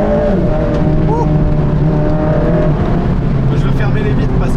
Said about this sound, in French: Là, on a des petites pétarades quand même, c'est cool.